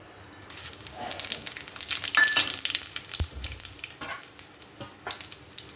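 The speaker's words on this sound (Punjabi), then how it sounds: "ਤੇ ਕੜਾਹੀ ਦੇ ਵਿੱਚ ਅਸੀਂ ਕਰ ਲਿਆ ਤੇਲ ਨੂੰ ਗਰਮ ਇਹਦੇ ਲਈ ਅਸੀਂ ਇੱਕ ਲਿਆ ਤੇਜ ਪੱਤਾ ਤੇ ਖੜੇ ਮਸਾਲੇ" A bay leaf and whole spices fry in hot oil in a kadai, giving steady close sizzling and crackling with a spoon stirring and scraping against the metal pan.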